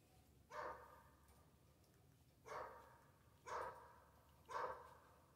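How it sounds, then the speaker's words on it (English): A dog barks in the background while a fox is being skinned. Four single barks come at irregular intervals, faint and distant, over a quiet room. "Sorry for the dog that's barking in the background."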